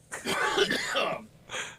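A raspy throat-clearing cough, one rough burst followed by a brief second catch, close and fairly loud.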